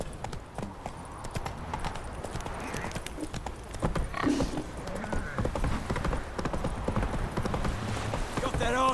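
Galloping hooves of Roach, a horse in The Witcher 3, clip-clop steadily for the whole stretch, with a brief whinny partway through and voices talking over the hoofbeats.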